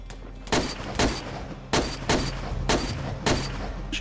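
Gunshots ring out in the survival game DayZ, about seven sharp reports spaced roughly half a second apart with short pauses between, loud and close, with no talking.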